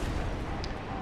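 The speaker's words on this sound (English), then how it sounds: "Need to get close enough to hit him with my black fire bombs." A black fire bomb explodes in Dark Souls Remastered, a dense, booming blast with a rushing roar that fills the whole moment, loud and close.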